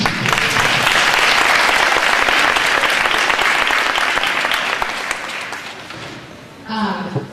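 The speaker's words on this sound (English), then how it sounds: "Give them a round of applause." Loud, dense applause from the audience at a fifth-grade winter band concert, strong at first and gradually fading, with a voice coming in near the end.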